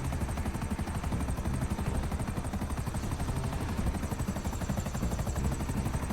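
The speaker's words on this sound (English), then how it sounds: "sounds like my chopper is also beginning to fail" A failing video game helicopter's rotor chops steadily and loudly throughout, a rapid pulsing thrum with a high whine layered on top.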